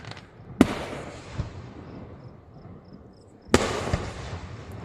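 Fireworks exploding on a Fourth of July night: two loud, sharp bangs about three seconds apart, each followed by a brief crackling tail over quieter background noise.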